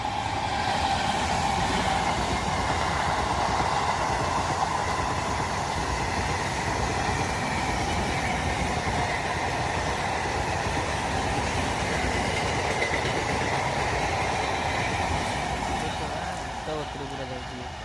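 A train rolls past near a village, its rumbling wheels and wagon clatter loud and sustained for the whole stretch, with occasional squeal and a person talking over the noise.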